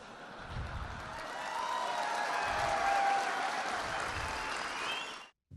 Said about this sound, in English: that applause is coming from the people whose main job is to see lawlessness and stop it